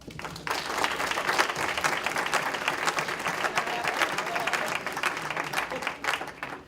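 A dense round of applause from a large crowd at a public safety forum, steady and loud throughout, tapering slightly near the end.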